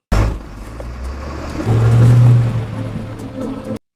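A car engine starts and settles into a low, steady idle rumble, with a brief swell in the middle, heard close by with no one talking.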